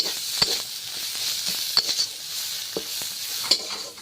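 Food frying and being stirred in a pan in a village kitchen, a steady close sizzle with several sharp scraping clicks of the spatula at irregular moments.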